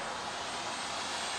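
A foam profile model airplane's motor is throttled up for a go-around, making a steady, faint, even buzzing drone with no talking.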